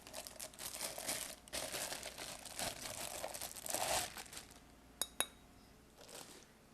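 Glass light covers from a four-bulb vanity fixture being handled, giving a steady rustle of crinkling packaging with two sharp, close clinks of glass near the end.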